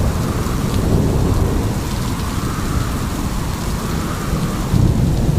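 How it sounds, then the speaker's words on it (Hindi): Heavy rain pouring steadily with deep rumbling thunder rolling underneath, a dense, loud, continuous wash with a swell of thunder toward the end. "अचानक गर्जनादार बादलों के साथ तेज बारिश शुरू हो गई"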